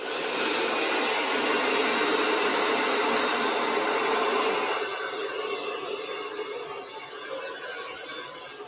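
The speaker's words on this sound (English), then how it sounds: "I'm going to take my blow dryer one more time to all of this" Blow dryer aimed at wet paint on a Halloween painting, a loud steady whooshing motor that drops slightly in tone partway through and fades a little toward the end, with no talking.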